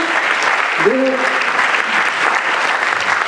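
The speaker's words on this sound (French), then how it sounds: "On peut l'applaudir très fort" A room full of people claps loudly and steadily, with a brief voice audible near the start.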